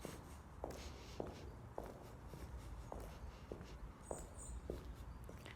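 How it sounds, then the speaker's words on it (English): Footsteps crossing a bridge outdoors, each step landing with a slight echo in a steady walking rhythm, fairly faint against soft ambient background noise. "So I can hear the echo of my steps."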